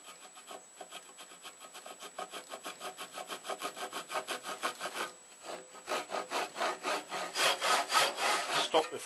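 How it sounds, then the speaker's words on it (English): Steady back-and-forth strokes of a hand saw cutting into the steel tang of a French butcher knife, rhythmic and close, with the strokes growing louder and more forceful toward the end. "the depth of the cut is exactly the distance between the teeth and the rib, so I can cut until it stops."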